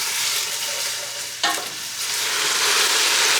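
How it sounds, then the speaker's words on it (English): Chopped vegetables for soup sauté in a pot with a loud, dense, continuous sizzle, broken once by a brief stir or shift of the pan; close and with no speech. "we'll just go ahead and let this saute for about 10 minutes until these veggies soften"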